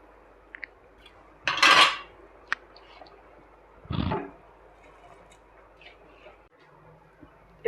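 Rice poured into a pot of cooked mutton for dum biryani: a loud rattling pour, then a metallic clatter of a utensil against the pot, with faint scattered clinks and low room noise between.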